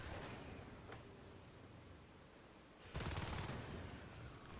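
Rapid automatic gunfire in the game Natural Selection 2 breaks out partway through as a dense rattling burst that then sustains. It is preceded by a softer, noisy game ambience with a few faint isolated shots.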